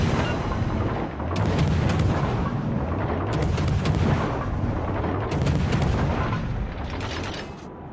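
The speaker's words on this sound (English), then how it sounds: "that is a rate of fire like I've never seen. This may well be my fastest firing ship I own" Rapid naval gunfire from a warship in World of Warships, a relentless run of loud, booming salvos with sharp cracks roughly every second and a half, over a continuous low rumble with no talking.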